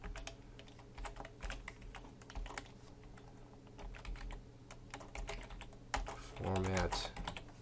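Computer keyboard clatters in bursts of quick keystrokes while code is typed, close and moderately loud, with a short talking voice near the end.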